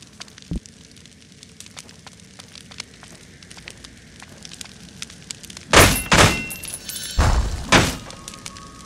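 Weapon attacks strike training dummies in the action RPG Victor Vran: faint scattered ticks and a single early thud, then two loud, crunching bursts of impacts close together near the end.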